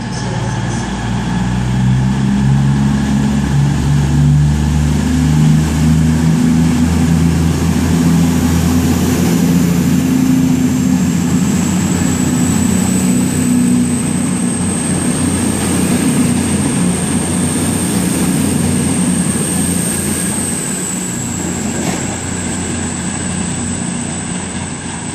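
A CrossCountry passenger train bound for Penzance departs Exeter St David's station, rumbling steadily past at close range, a deep engine drone with a thin high whine rising over it, continuous and loud.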